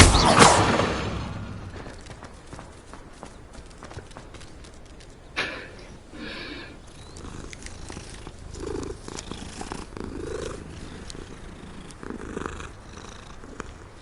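Steady purring of a cat in the Hogwarts Legacy video game, a soft continuous rumble that persists through the clip beneath faint game ambience and occasional clicks, with a brief louder burst at the start.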